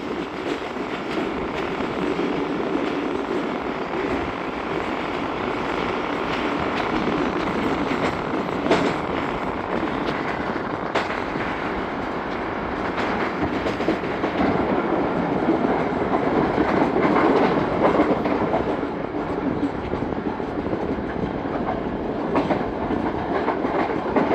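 The Sukkur Express, led by locomotive HMU 8203, rolls past with a continuous loud rumble and rhythmic clickety-clack of wheels over rail joints, steady from start to finish.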